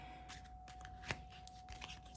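Tarot cards being shuffled by hand: a quiet, brief riffle with a few soft slaps and snaps, close and faint.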